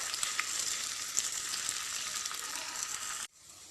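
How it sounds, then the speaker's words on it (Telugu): Pieces of ivy gourd frying in a pan give a steady, fairly quiet hiss with small crackles and pops, cutting off abruptly near the end. "మిగిలిన ముక్కలు కూడా ఇంకోసారి వేసి ఫ్రై చేసుకుందాం"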